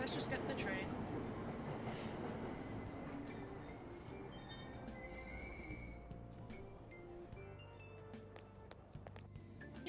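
Train in the video game Persona 5, a steady rolling rumble with wheel squeal and a tonal whine, heard continuously throughout with faint announcements and voices mixed in.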